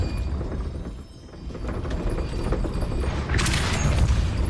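Depulso spell cast in the Hogwarts Legacy video game, a dense booming rumble of game combat that swells into a bright, crackling burst near the end, heard up close.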